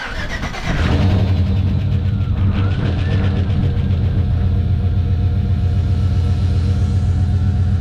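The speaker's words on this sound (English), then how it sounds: "I think I hear a running motor." A Chevy Silverado engine fresh from a cam, lifter and valve spring swap cranks briefly and catches, then settles into a loud, steady, close rumbling idle with a faint ticking layered over the drone.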